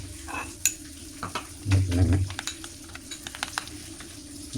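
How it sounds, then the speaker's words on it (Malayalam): Spices for a Kerala-style sardine curry are stirred with a splash of water in a pan, giving a scraping, sputtering cook with several spatula knocks and a louder bubbling burst partway through. "നമ്മൾ ഇച്ചിരി വെള്ളം ഒഴിച്ചിട്ട് ഇങ്ങനെ ഇളക്കി വെക്കും എന്നറിയാം മസാല ഇങ്ങനെ പഴറ്റിയെടുക്കുമ്പോൾ കരിഞ്ഞു പോകാതിരിക്കാൻ വേണ്ടി"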